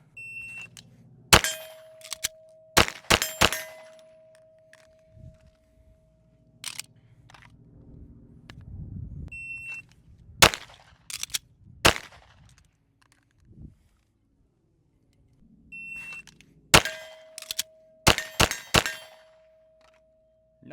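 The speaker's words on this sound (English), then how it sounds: "So let's go ahead and do a couple of reload reps." A Sig P320 pistol fitted with a steel grip being reloaded in repeated reps: sharp metallic clacks and clicks of magazines dropping free, seating, and the slide locking, in short bursts separated by quiet pauses.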